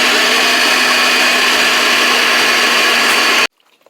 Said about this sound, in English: Then we're going to blend this.